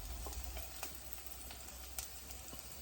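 Sliced garlic, ginger, shallots and green chillies sautéing in a pan: a steady crackling sizzle with scattered pops, quiet and even throughout, with no voices.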